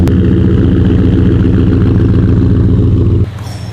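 A pickup truck engine idles loud and close with a steady, throbbing rumble, then drops off abruptly near the end.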